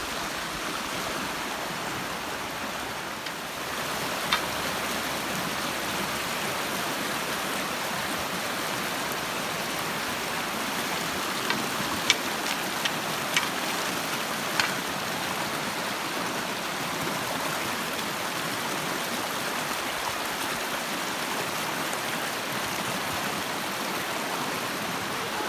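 A clear mountain creek flows at Bonita Falls with a constant, even rushing wash of water, near and steady for the whole stretch, with only faint small clicks and no talking.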